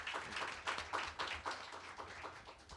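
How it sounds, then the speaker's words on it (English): An audience claps after a conference talk on IPv4 depletion and IPv6 adoption, a soft, fairly distant patter of applause that stays steady throughout. "Let's give Mark a round of applause."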